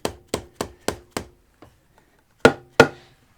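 Light tool taps against a KTM Duke 390 clutch component being worked loose during clutch plate replacement, five quick evenly spaced knocks, a pause with faint ticks, then two louder taps, close and dry with no talk.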